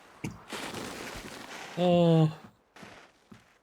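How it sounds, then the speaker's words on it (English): A sudden blast in the video game Mars First Logistics opens into a broad, rushing roar that fades within about a second and a half, then a man gives a short, loud exclamation, with lighter thuds trailing after. "That was an uncontrolled explosion."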